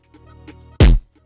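A single punchy kick drum hit programmed in FL Studio for an R&B and Brazilian-style beat, one loud, deep booming thump that stands alone after soft faint taps.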